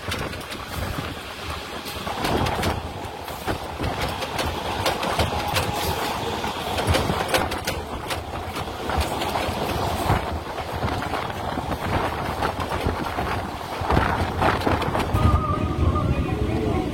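A local train runs from Magra toward Talandu in Hooghly district, its steady rumble, rattle and rhythmic clickety-clack of wheels on rail joints continuing loudly throughout, heard from inside the carriage.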